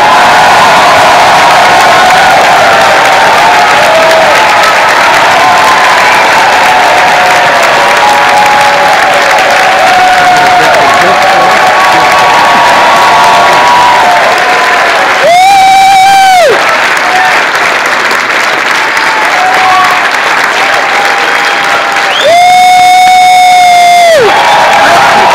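A room full of people bursts into loud, sustained applause and cheering as Bernie Sanders is welcomed in, the clapping steady throughout with shrill whistles piercing the roar twice toward the end.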